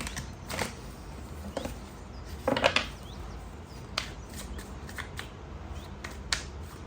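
A deck of playing cards is shuffled, giving a quick burst of riffling flicks near the middle, with scattered light taps and handling clicks before and after, close and moderately quiet.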